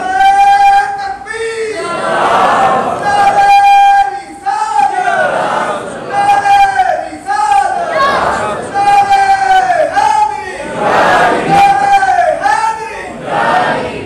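A crowd at a Milad-un-Nabi religious gathering chants slogans in loud, rhythmic unison, voices rising and falling in repeated call-like bursts that fill the whole stretch.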